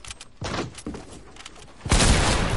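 A hunting rifle fired in Fortnite, a sharp shot followed by a heavy burst of impact noise, with clicks and a few quieter cracks before it.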